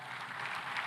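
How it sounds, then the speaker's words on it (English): Steady applause from a conference audience for President Macky Sall at an African food systems forum, a dense even patter of clapping with no voices over it. "One more time, a round of applause for President Macky Sall."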